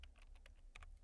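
Keys tap out a terminal command on a computer keyboard, a quick run of soft, close clicks in an uneven rhythm over about a second, quiet and alone.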